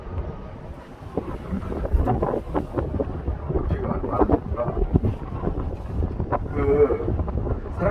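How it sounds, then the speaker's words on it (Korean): Wind gusting against a sea cable car cabin high over the water at Mokpo, a steady broadband rush with rumbling buffets throughout, some faint voices and cabin noise underneath. "우와 바람"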